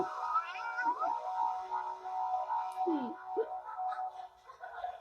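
A cat meows in a series of drawn-out, wavering cries, fairly clear and close, with a couple of sharper rising calls partway through and faint background noise beneath.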